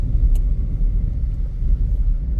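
A small Kia Picanto driving around the block, heard as a continuous low, rumbling road and engine noise close by, steady and without speech.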